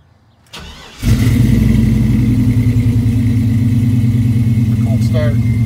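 A 1986 Chevrolet C10 Silverado pickup with Flowmaster dual stainless custom exhaust cold-starts: a brief crank, then the engine catches with a loud burst and settles into a deep, steady, rumbling idle, close up.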